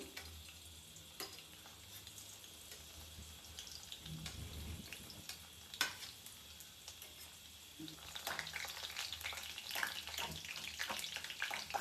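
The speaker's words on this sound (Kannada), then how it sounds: "ಇದು ಸ್ವಲ್ಪ ಬೆಳ್ಳುಳ್ಳಿ ಸ್ವಲ್ಪ ಬ್ರೌನ್ ಕಲರ್ಗೆ ಟರ್ನ್ ಆಗೋವರೆಗೂ ಫ್ರೈ ಮಾಡ್ಕೊಳ್ಳೋಣ" Finely chopped garlic frying in hot oil, a soft continuous sizzle with light stirring and scraping noises that grows slightly livelier near the end.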